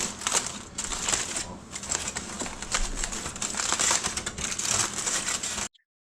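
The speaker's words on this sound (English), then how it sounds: "We're going to unwrap it" Smoked beef for tacos being unwrapped from its wrapping, a steady, close crinkling and rustling that runs almost without pause and then stops abruptly.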